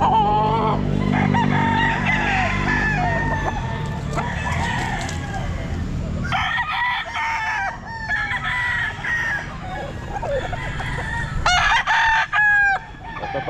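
A gamefowl rooster at the Grotto pet market crows loudly and close, followed by further crows and clucks from other fowl, with some background chatter.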